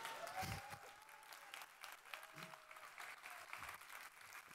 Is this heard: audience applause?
yes